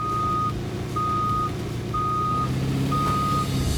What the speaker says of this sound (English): Next time you find a semi, put it in reverse and you'll hear this.